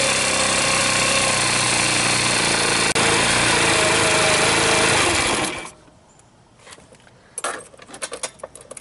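A Tao Tao Thunder 50cc scooter engine runs loud and steady up close for about five seconds, then cuts out, leaving faint scattered clicks and rattles.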